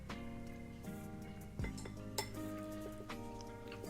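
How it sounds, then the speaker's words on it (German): A utensil stirs seasoned chicken pieces with salt, spices and oil in a bowl before air frying, making quiet scraping and repeated light clinks against the bowl. "Und das Ganze jetzt nochmal gut umrühren, vermengen, damit die Salz, die Gewürze, Öl, alles gut mit dem Fleisch gleichmäßig verteilt ist."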